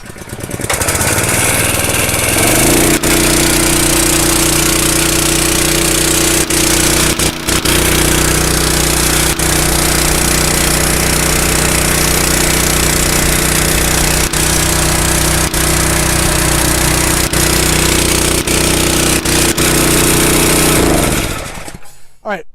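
A gas-powered HPA compressor for SCUBA and paintball tanks starts up and runs with a loud, continuous engine roar and steady hum, then cuts off at the end.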